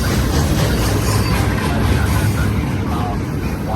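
A BNSF intermodal freight train rolls by close up in a loud, steady wash of wheel and engine roar, a dense rumble with no breaks that fills the whole stretch.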